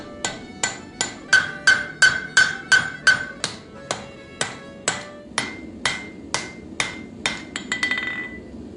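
Hammer strikes shaping a forged Viking axe head on an anvil after forge welding: about twenty bright, ringing metallic blows at a steady, fairly quick rhythm, close and clear, with a few rapid lighter taps at the end.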